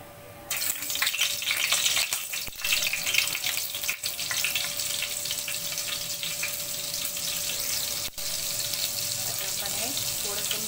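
Butter drops into hot oil in a wok and melts with a steady, close sizzle that starts abruptly and holds evenly, a thin whistle-like tone running through it.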